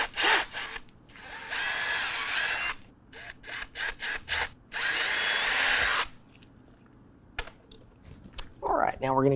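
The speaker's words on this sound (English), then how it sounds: "drill holes in those two locations as well." A power drill bores holes in a 2024 Ford F-150 to mount Husky Liners MudDog mud flaps, with loud, high-pitched bursts of spinning separated by pauses, and a voice speaks at the end.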